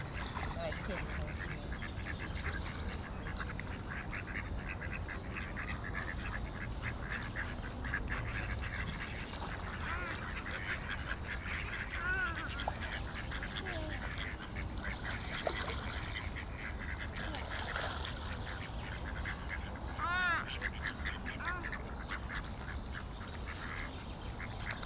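Swans, ducks and other waterfowl are fed outdoors, their quacks and honks scattered throughout over steady outdoor noise, with people talking nearby.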